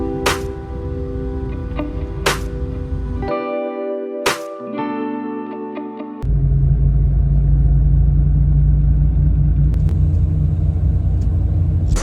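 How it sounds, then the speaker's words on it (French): Bus engine rumble on a ride toward Ouarzazate, Morocco: a low droning motor with tonal whines and a few sharp knocks, then a louder, steady deep rumble filling the rest. "Ok, on est dans le bus"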